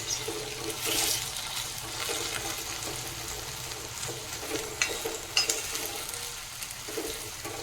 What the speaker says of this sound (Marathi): बटाटा घालते मी बटाटा त्यात छानसा शिजून घ्यायचा आहे